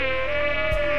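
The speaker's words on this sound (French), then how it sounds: "On revit les moustiques." Mosquitoes in the Camargue marshes give a steady, high-pitched whine that holds evenly for the whole second, fairly loud and close, with no voices.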